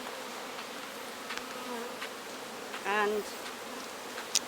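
Bees buzz steadily around an opened beehive, a soft close hum with a few louder passes near the listener, while a voice briefly speaks.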